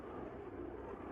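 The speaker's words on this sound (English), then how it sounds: "Wait till this plane goes overhead so I can talk to you about" An airplane passes overhead above a eucalyptus grove, a low, steady, distant drone that fills the moment with no talking.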